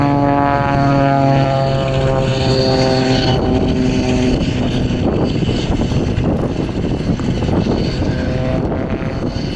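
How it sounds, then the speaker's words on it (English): Display aircraft from the Blades team snap rolling at the RAF Leuchars Airshow, heard as loud, close propeller engines with falling tones as they pass, giving way to a broad rushing roar. "Now watch the bottom two aircraft. These guys are going to snap roll away."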